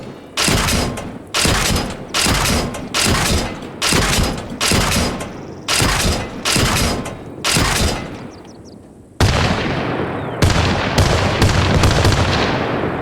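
Vehicle cannon fire in Arma Reforger booms out in a steady series of about a dozen loud, evenly spaced shots, each with a short echoing tail. Continuous rumbling engine noise follows the shots.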